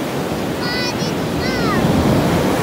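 Steady rushing of waves on open water near a riverbank, continuous and fairly loud with wind buffeting the microphone, while a person's voice rises briefly over the wash.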